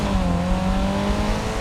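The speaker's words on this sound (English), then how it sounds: "the Boxer 4 of the GR86 has a very specific grumble to it" A Toyota GR86's boxer four-cylinder engine gives a steady, close, low grumbling drone with a throaty uneven pulse, loud and continuous throughout with no talking.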